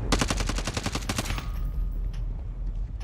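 A fast burst of automatic gunfire in Call of Duty Warzone cracks out in rapid, evenly spaced shots for over a second, then cuts off, leaving faint scattered game noise behind.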